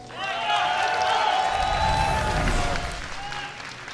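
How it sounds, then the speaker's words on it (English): A crowd at an IPL 5 esports match, a best-of-three game with a Terran player, cheers and applauds loudly for about three seconds, swelling and then fading, with a faint voice over the noise. "A lot of Polt supporters in the crowd"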